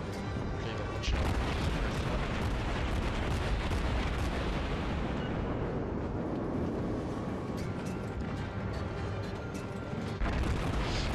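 Naval gunfire and exploding shells in the World of Warships video game: a dense, loud, continuous rumble of booms and blasts that swells and fades over several seconds, with no speech.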